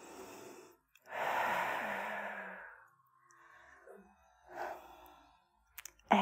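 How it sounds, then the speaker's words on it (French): Slow, deep yoga breathing: a long, airy inhale or sigh of about two seconds, followed by softer exhales and one more strong breath, all close up with no talking. "On prend quelques grandes respirations ici."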